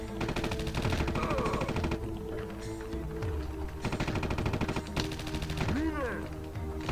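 Bursts of automatic gunfire in the Danger Girl PS1 video game rattle in rapid rhythmic volleys, stopping and starting several times, with game music and a voice talking underneath.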